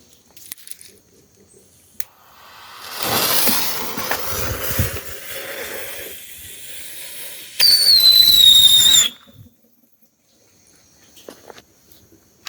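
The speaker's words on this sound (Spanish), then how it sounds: "me he hecho estos pequeños chifladores o mini silbadores" A small homemade mini whistle firework fizzes and hisses for several seconds, then lets out a sharp, high whistle that slowly drops in pitch before cutting off, heard close by.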